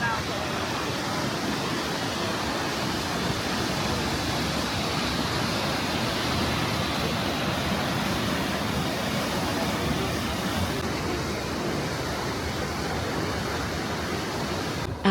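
Kegon Falls in Nikko, Japan, sends up a steady, broadband rushing roar of falling water. It is heard from a viewing area, fairly quiet and continuous with no breaks.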